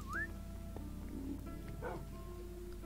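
In the Minecraft Dungeons video game, a companion dog gives a few short yips and whimpers over a low steady game background, quiet and close.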